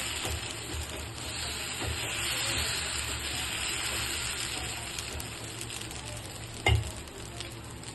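Onion uttapam dosa frying in oil on a pan gives a steady, close sizzle and hiss, with a brief clack of utensil contact near the end.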